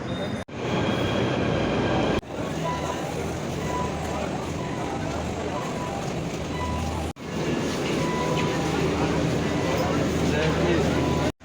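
A metro train rumbles along with a loud, steady roar of wheels and carriage noise. The sound cuts out briefly in a few places, and a voice talks over it at times.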